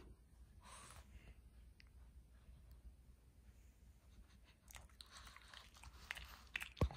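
A pet chews a banana close by, with steady soft wet crunching and biting noises that run throughout, growing a little busier toward the end, with no talking.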